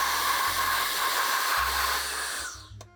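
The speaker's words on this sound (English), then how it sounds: "we take the Air Swab and we can do some detailed work on the" A Silverstein Air Swab blows air into saxophone tone holes with a loud, close, steady hiss that fades near the end, followed by a brief knock.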